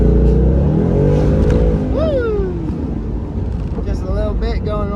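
A Ford Mustang GT accelerates on the highway with a loud, close engine roar that climbs in pitch, then eases off, with rushing wind and road noise throughout.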